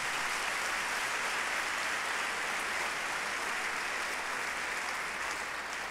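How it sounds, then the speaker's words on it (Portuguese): A church congregation applauds during an evening worship service, steady dense clapping from many hands filling the room evenly from start to finish, with no talk over it. "Aplauda Jesus pela vida deles"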